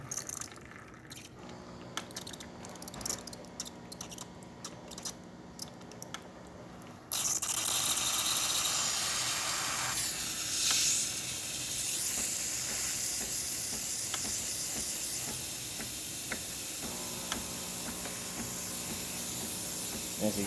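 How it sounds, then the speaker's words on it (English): On a freshly serviced Breville espresso machine, quiet clicks and drips give way to a sudden, loud, continuous steam wand hiss that roars on steadily to the end. "steam is coming out"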